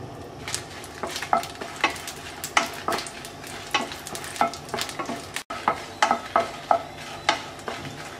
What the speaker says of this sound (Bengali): মরিচ ভাজা হয়ে গেছে, তুলে নিচ্ছি।